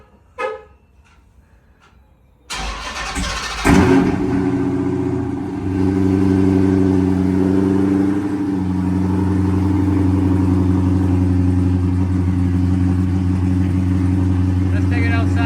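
A Dodge Magnum with its catalytic converters refitted cranks and fires up with a sharp burst, then settles into a loud, deep idle with a brief rev; a little speech is heard before the start.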